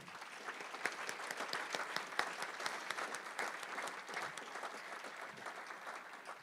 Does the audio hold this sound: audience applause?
yes